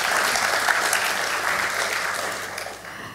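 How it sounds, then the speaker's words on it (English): An audience applauding after an impromptu talk, dense sustained clapping from a room full of people, loud and steady, fading slightly toward the end. "I think that deserves a clap from getting up there doing that impromptu"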